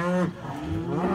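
A cow moos nearby in the rain, a low drawn-out call that shifts in pitch partway through, loud and clear.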